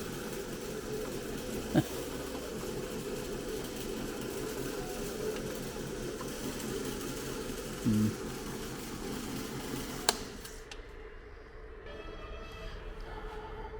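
An old engine runs at a motor museum, a steady mechanical hum and clatter with a couple of sharp knocks, cutting off near the end.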